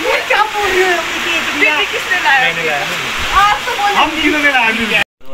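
Heavy rain and hail pour down in a dense, steady roar, with people talking and calling out over it throughout.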